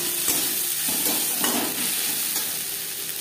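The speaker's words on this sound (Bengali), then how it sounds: "পেঁয়াজ লালচে করে ভেজে নেব।" Onions frying in oil in a pan for a fish bharta, with a steady close sizzle and occasional stirring scrapes throughout, no voices.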